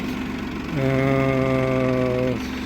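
A tractor engine idles and then revs up to a steady, harmonic drone while driving out to plough a field, loud and close, settling back to a lower idle at the end.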